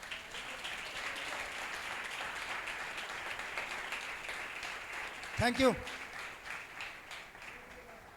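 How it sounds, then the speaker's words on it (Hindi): Steady applause from a church congregation during a sermon, a broad even wash of clapping lasting several seconds, with a short spoken phrase cutting in over it. "अपने लिए तालियां बजाएं"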